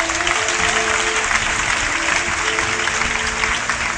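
Steady applause from a church congregation acclaiming a priest after Mass, a dense continuous wash of clapping with a faint tonal hum running underneath, no pause for the full length.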